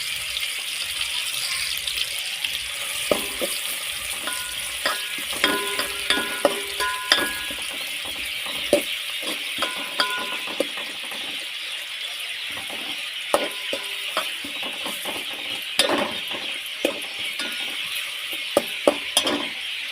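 Okra, green chili, tomato and onion frying in hot oil in a pan, a steady bright sizzle throughout with occasional clinks and scrapes of a utensil against the pan.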